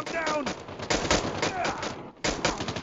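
Rapid pistol gunfire in the Call of Duty Mobile video game, a loud, dense run of repeated shots that stops briefly near the end and then resumes.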